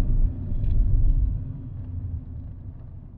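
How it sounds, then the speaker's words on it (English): A Nissan Lafesta MPV with a CVT brakes to a halt on the road, its low engine and road rumble loud at first, then easing and fading steadily as the car slows to a stop. "now I'll brake the car down to a halt"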